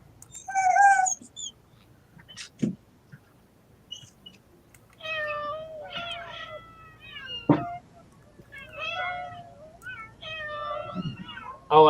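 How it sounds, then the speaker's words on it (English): A cat meows repeatedly, with a few short cries followed by longer drawn-out meows spread across the stretch, close and clear, mixed with occasional bumps and brief quiet gaps. "find my cat."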